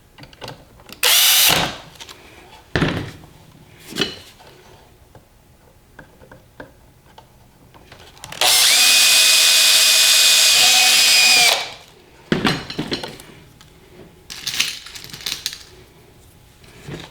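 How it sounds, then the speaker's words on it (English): A power drill bores holes during assembly of an electric snowmobile model, with short bursts and one longer sustained whine of the motor, interspersed with clicks and handling noises at close range. "and drill 2 more holes."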